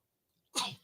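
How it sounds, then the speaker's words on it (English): A single sharp sneeze from a morning radio host, bursting out of near silence, loud and close, then trailing off. "I gotta sneeze."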